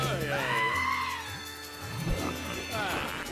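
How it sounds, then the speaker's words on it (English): Sheep bleating in a Shaun the Sheep cartoon, a wavering, drawn-out cry over a musical backdrop, fairly soft, with a second shorter bleat near the end. "Shaun the sheep."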